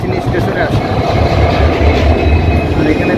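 The New Jalpaiguri to Alipurduar tourist express 15777, a vista dome train, pulls into Kalchini station. A loud, steady rumble of wheels and carriages with faint clattering fills the short stretch.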